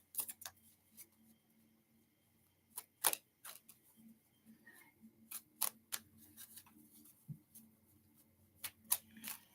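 Tarot cards being shuffled in quick irregular bursts, with crisp riffling snaps and soft slides scattered across a quiet room, close and fairly faint, no voices.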